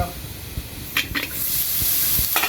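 Seafood sizzles and fries in a pan while being stirred, with a steady hiss that builds louder toward the end and a few sharp scraping bursts from the stirring.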